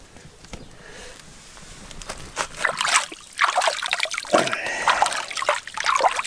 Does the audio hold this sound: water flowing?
yes